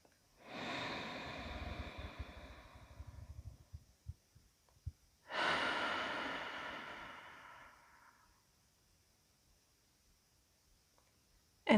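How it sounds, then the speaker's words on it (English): Two long, deep breaths, each a slow inhale and exhale separated by a quiet pause, close and clear with no talking. "Take a deeper breath."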